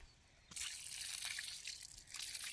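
A liquid solution is poured onto brinjal plants in a garden. It starts with a soft tap, then a quiet, steady trickle and splash of liquid that continues to the end.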